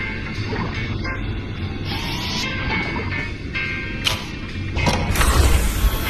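A bolt driver tool being handled in the virtual-reality spy game I Expect You To Die, giving continuous mechanical clicking and creaking with a few sharper clacks, close and fairly loud against a busy background hum.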